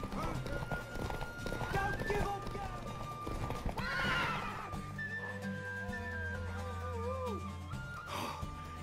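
Hooves clop rhythmically while a mare whinnies loudly in The Witcher 3: Wild Hunt, with a snort and people talking over the sounds.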